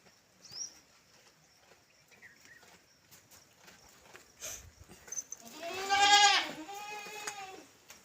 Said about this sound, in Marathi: शेळ्या लागल्या वरडायला